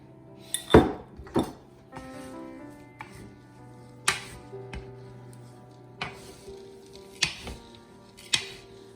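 Granola ingredients being stirred in a bowl at home, giving scattered clinks and scrapes of a utensil against the dish in irregular bursts, close and moderately loud, with no talking.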